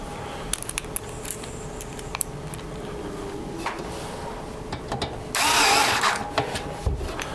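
A screwdriver turning screws into parts during a PC build, with scattered ratchet-like clicks and small metallic mechanism sounds, then a short louder scraping burst near the end, close and alone.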